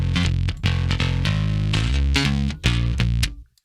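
Bass guitar from the Prime Bass Kontakt patch, heavily processed with distortion and other effects, plays a punchy rhythmic line of gritty, thick notes with short gaps, loud and close, ending in a quick stop.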